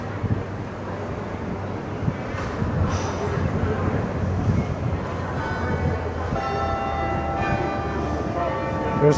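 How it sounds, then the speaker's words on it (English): Park Street Church bells in Boston chime distantly, faint tones drifting over steady wind and street noise outdoors along the Freedom Trail, with no clear voice over them. "There's the bells from the Park Street Church playing in the background."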